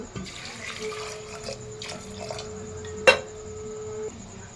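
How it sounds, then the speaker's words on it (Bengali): A mug of water poured into a pressure cooker holding chickpeas, a close steady running splash with a sharp clink partway through. "এর মধ্যে 1 মগ জল দিয়ে দিচ্ছি"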